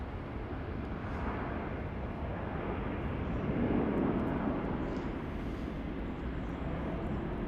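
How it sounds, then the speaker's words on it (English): A China Southern Boeing 787 from Guangzhou touching down on runway 16 at Melbourne Airport, a broad distant jet roar that swells slightly midway and fades, steady without talk. "We've got China Southern CZ321 from Guangzhou, 7879 touching down on 16."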